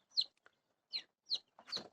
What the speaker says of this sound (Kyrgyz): Бул жөжөлөр